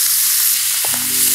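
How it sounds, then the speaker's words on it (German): Taco filling fries in a pan with a loud, close, steady sizzle and a low hum that shifts partway through, with no talk. "Braten wir das hier an."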